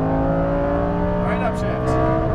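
Lamborghini Huracan Performante on a race track at Exotics Racing Las Vegas, its engine holding a loud, steady drone under full throttle, while an instructor's voice talks over it.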